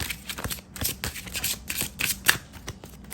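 Pink-backed tarot cards are shuffled and cut by hand in a series of close, crisp riffling and slapping bursts with brief pauses between them, and nobody speaks.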